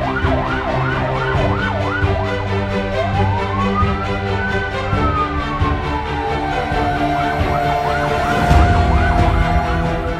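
A fire truck siren blares up close on a city street, starting with a fast yelping warble and then shifting into a long rising and falling wail over engine rumble.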